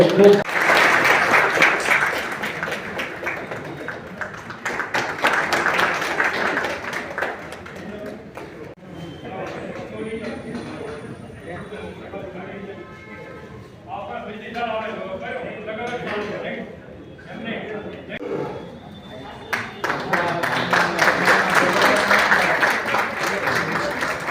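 Applause from an audience at a Bhavnagar barber community girls' hostel function, loud sustained clapping at the start and again near the end, with a quieter stretch of murmur and background talk between.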